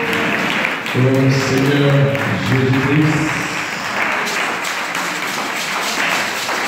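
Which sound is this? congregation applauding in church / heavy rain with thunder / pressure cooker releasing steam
congregation applauding in church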